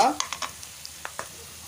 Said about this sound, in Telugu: టమాటా చికెన్ కోసం వేపుకుంటున్న ఆనియన్స్ను కూడా మాడకుండా అయితే చూసుకోవాలి